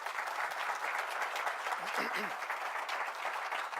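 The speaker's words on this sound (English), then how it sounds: "Please give them a round of applause as well." A crowd at a Carnegie Hero Medal presentation ceremony claps in a fairly quiet, steady round of applause heard from a distance, with faint murmuring voices mixed into the clapping.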